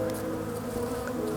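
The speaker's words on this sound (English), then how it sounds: "the bees just love to be around the open cells because they're feeding the larvae" Honeybees in an open hive buzz steadily around uncapped brood cells where nurse bees feed larvae, a dense close drone that holds even and unbroken throughout.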